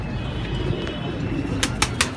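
Soft pigeon coos drift over a low, steady murmur of background noise, with a few brief brighter chirps near the end.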